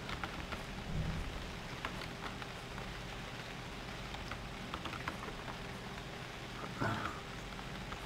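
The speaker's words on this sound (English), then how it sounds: "In the rain." Rain falling in the survival game UnReal World, a faint, steady patter with a couple of brief louder splashes, heard alone without talk.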